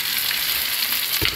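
Chicken sizzles in a pan with sautéed onions while adobo is being cooked, a steady, close frying hiss with a brief stir-like clatter near the end.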